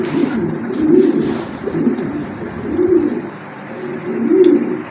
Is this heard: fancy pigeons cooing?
yes